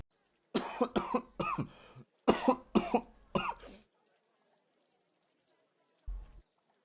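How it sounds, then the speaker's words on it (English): A series of sharp coughs comes in two close bursts, followed by silence and one more short cough near the end. "Anytime somebody coughs, everybody in the room stares at them."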